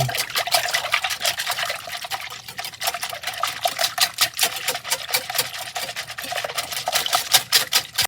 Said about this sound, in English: Then you want to beat these together.